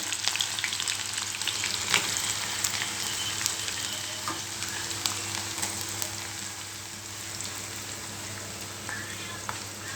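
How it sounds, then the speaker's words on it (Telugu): Onion pieces fry in a pan for egg curry, giving a steady close sizzle with faint crackles and the odd light stirring click throughout, with no talk. "ఉల్లిగడ్డ ముక్కలు ఫ్రై అయ్యే లోపల"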